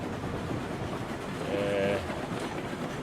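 Steady rolling rumble of a train heard from the back car in the game RailRoads Online, a quiet, even rail noise with a faint, brief whistle-like tone in the middle and no talking.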